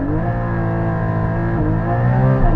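A Porsche Cayman GT4 launches hard, its engine note loud and close, with a strong rising harmonic pitch that climbs steadily through the run, briefly dipping as it shifts.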